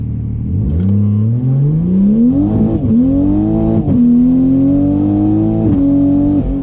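A big-turbo 2020 Toyota Supra accelerates hard on the street from inside the cabin, engine pitch climbing steadily through several gear shifts with a loud, continuous roar.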